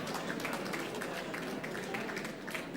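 An audience at a football club's 50th anniversary gathering gives steady applause, a dense, even patter of many hands clapping that carries on unbroken and fairly distant throughout.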